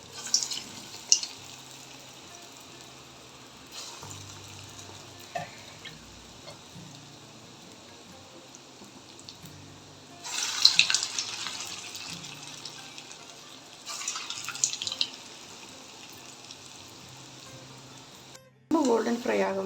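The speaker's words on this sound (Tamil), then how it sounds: "இப்போ வந்து இந்த குணுக்கை போட்டு எடுத்துக்கலாம்" Coconut milk kunukku, Chettinad-style paniyaram fritters, dropped into hot oil, with soft sizzling and bubbling that swells in bursts among quieter stretches and light kitchen clatter.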